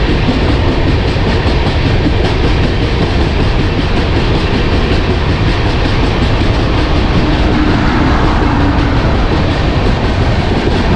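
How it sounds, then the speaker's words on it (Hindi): The Mumbai Central Jaipur Superfast Express rushes past at close range, a loud, steady roar of wheels and clattering carriages that holds without letup. "Mumbai central Jaipur superfast express."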